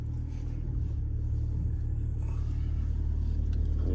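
Deep, continuous low rumble of a tuned BMW X3 M40 engine heard from inside while driving, steady and droning at moderate loudness with no clear voices.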